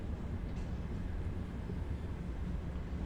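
An Akulok AL1 train in the Subway Sim 2 video game gives a low, steady rumble of rolling rail noise, continuous and moderately quiet throughout.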